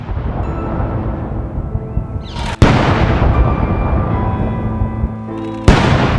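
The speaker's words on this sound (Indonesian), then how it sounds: "96 kali dentuman meriam dibunyikan" Heavy booming blasts over a constant low rumble, with two sharp loud reports standing out a few seconds apart, from a 96-round ceremonial cannon salute fired outdoors.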